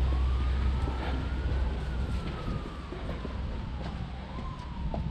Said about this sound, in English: Gotta make sure those sirens aren't coming for us.